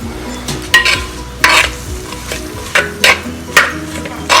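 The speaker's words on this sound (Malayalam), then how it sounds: "ഇനി അതിലേക്ക് നമ്മൾ സവാള ചോപ്പ് ചെയ്ത് വെച്ചത്, പച്ചമുളക്, കറിവേപ്പില ഇതെല്ലാം കൂടിയിട്ട് ഒന്ന് ലൈറ്റ് ഗോൾഡൻ ബ്രൗൺ ആണ് വരെ ഒന്ന് വഴറ്റിയെടുക്കണം" Chopped onion, green chili and curry leaves sautéing in coconut oil, with steady frying close up. A spoon scrapes and stirs against the pan in repeated sharp strokes.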